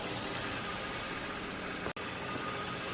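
A 2012 Hyundai Equus VS380 luxury sedan idles quietly, a steady, even engine hum with no revving, broken only by a single momentary dropout near the end.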